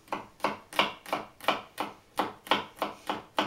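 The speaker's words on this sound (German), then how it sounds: "Ihr hört, wie der knackt. Das ist halt ein frischer Knoblauch diesmal." A knife chops through fresh garlic on a board, eight or nine evenly spaced, crisp cracking strikes at a steady rhythm, close and clear, with no talking.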